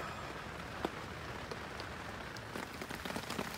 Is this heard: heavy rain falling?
yes